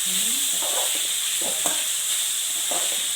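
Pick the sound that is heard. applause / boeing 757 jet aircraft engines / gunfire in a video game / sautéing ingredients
sautéing ingredients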